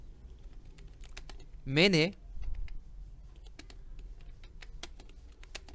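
A note is typed into Photoshop on a computer keyboard, with sparse, crisp key clicks spread across the moment and a brief spoken word from a man partway through.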